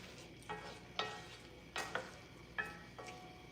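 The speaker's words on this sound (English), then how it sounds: "I have peppers, onions that I'm just going to saute" Peppers and onions saute for vegan chili, a quiet low sizzle broken by several soft scraping stirs of a spoon across the pan, spaced about every half second to second.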